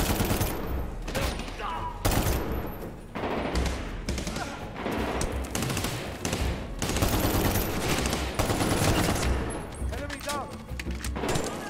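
Rapid bursts of automatic gunfire aimed at the player in a video game, dense and close, repeating in clusters throughout, with someone talking over the shooting.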